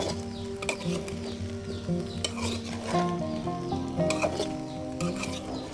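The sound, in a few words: sautéing fish curry masala with chili powder in a pan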